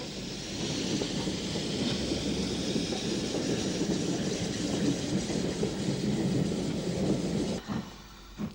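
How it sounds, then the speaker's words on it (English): Steam locomotive No. 170 Errigal pulls out of Dungannon bound for Belfast, steam leaking from its joints, a steady loud roar of exhaust and rolling wagons with wind buffeting that cuts off near the end. "With steam leaking from all the wrong places, number 170 Errigal leaves Dungannon bound for Belfast."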